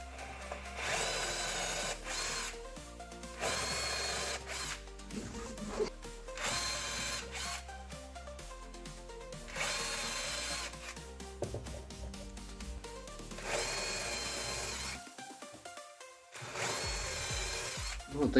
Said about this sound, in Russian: можно смело засверливать отверстие под эти бочоночки. Держите ровно дрель всегда.